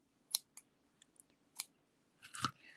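A few crisp snips and clicks of ribbon scissors cutting ribbon, close and sparse, ending in a louder cutting snap.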